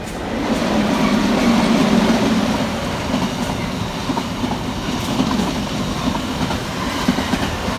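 A model train rake runs on a layout, giving a continuous close rumble with faint clickety-clack of the wheels, steady throughout with no talking.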